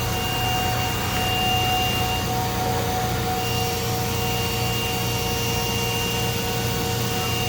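DMG Mori Seiki DMC 1035V vertical machining center running, a steady loud whirring hum with high spindle whine tones held constantly throughout, no talk.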